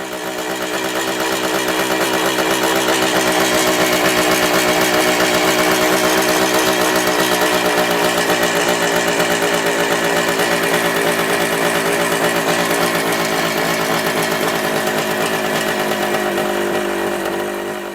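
A 1967 Yamaha YM2C 305 Big Bear motorcycle engine, running lean on first start-up, gives a loud, steady, buzzing two-stroke idle that drones without pause from start to finish, with no talk over it.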